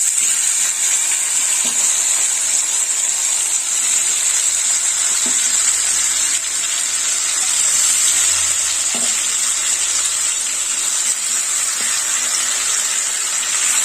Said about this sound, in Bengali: এবার দিয়ে দেবো এঁচড়, মেখে রাখা এঁচড় দিয়ে দিচ্ছি।